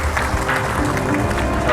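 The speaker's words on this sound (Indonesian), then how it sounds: "tepuk tangan semua Bu" Audience applause at an Indonesian talk show, dense continuous clapping from a crowd, loud and close, with some voices mixed underneath.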